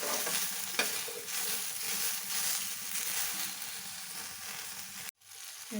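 Okra sambar ingredients frying on a low flame in a pan, giving a continuous soft sizzle with occasional stirring scrapes, a single sharp knock near the start, and a sudden cut to near silence just before the end.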